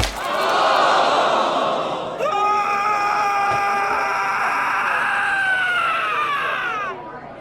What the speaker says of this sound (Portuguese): O grito ecoou pelo palácio